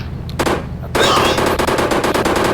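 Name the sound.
gunfire from a new gun in the Indian Bikes Driving 3D video game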